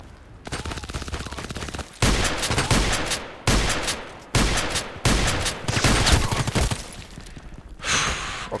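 Pump-action KelTec KSG shotgun blasts in the shooter game Contract Wars: five loud, heavy booms spaced roughly a second apart, each with a decaying tail, over a background of lighter rapid gunfire.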